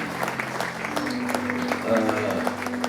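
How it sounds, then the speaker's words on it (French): A church congregation applauds and cheers to honor lives during a sermon, steady moderate clapping with a voice and sustained tones underneath. "Est-ce qu'on peut m'aider à acclamer Dieu pour les vies de ces gens?"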